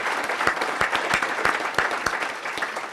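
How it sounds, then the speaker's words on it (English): Audience applause at a chamber of commerce legislative breakfast honoring committee members, steady clapping from a room full of people throughout, fairly close and even. "Let's give these gentlemen a round of applause."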